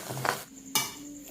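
An egg stirred as it fries in a pan for a bread dish, with a steady sizzle and two louder scraping stirs of the spatula against the pan, the second one sharp and close.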